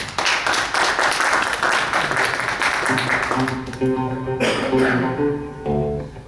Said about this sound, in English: let's have a round of applause for Rick Taborda.